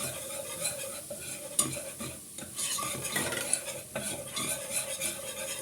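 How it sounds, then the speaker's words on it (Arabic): Flour stirred into ghee in a pot makes a constant soft sizzle with rhythmic scraping and occasional clinks of a spoon against the metal, close and steady, without talk. "دلوقتي انا حطيت هنا معلقتين سمنه، معلش معلقتين دقيق، ونقلب"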